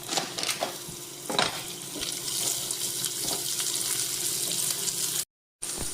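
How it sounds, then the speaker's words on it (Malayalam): Raisins fry in ghee in a pan, a close, steady sizzle with scattered stirring clicks and scrapes, cutting out briefly near the end, with no speech. "ഇതിനകത്തോട്ട് ശകലം മുന്തിരിങ്ങയും കൂടി നമുക്കൊന്ന് വറുത്തെടുക്കാം."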